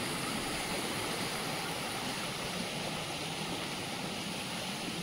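Floodwater rushing down Gandhamadan hill during heavy village rain, a constant broadband roar like a torrent, fairly distant and unbroken for the whole stretch with no voices.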